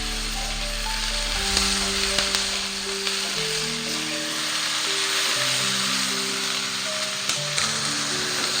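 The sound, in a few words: sautéing tomato and spice paste in pan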